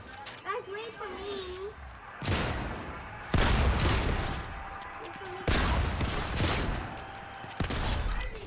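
Gunfire in Fortnite, several loud bursts of rapid shots separated by pauses, with people talking between and over the volleys.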